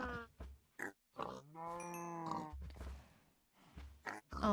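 Pigs grunting and oinking in Minecraft during breeding on a farm, several short tonal grunts repeating between bursts of talk, fairly close and clear.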